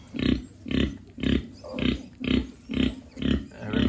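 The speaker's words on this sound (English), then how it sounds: "Mamas always sing to those pigs when they're nursing." A mother sow grunting to her nursing piglets, a steady rhythmic series of about eight low, close grunts evenly spaced roughly every half second, with no talking.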